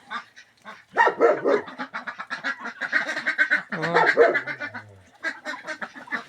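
Several ducks quack in loud, rapid bursts close by, the calls overlapping and tumbling over one another with brief pauses between volleys.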